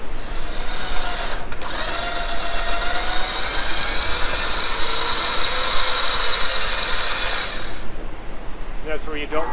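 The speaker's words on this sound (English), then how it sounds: "That's where you don't want to run the winch motor too long." A vehicle winch motor runs steadily with a continuous mechanical whine and grinding drone on a winter overlanding trip, then stops near the end.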